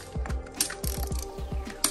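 Ratchet turning a 17 mm bolt on a 2019 Toyota Corolla shock absorber during a coilover install, a close run of quick regular clicks with a few sharper knocks.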